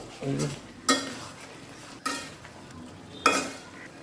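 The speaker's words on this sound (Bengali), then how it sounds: "এই ভাজা ভাজা করবো," Potatoes with shrimp and agra stalks fry in a pan, with a soft steady sizzle under three sharp metallic scrapes of a spoon stirring against the pan, spaced about a second apart.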